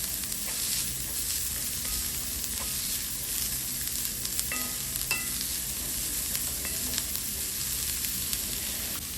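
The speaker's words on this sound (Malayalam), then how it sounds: "എന്നിട്ട് അത് നന്നായിട്ട് ബ്രൗൺ ആവുന്ന വരെ സോട്ട് ചെയ്യണം" Shallots sautéing in coconut oil over a medium flame until brown, a steady close sizzle with occasional stirring clicks and scrapes, no voices.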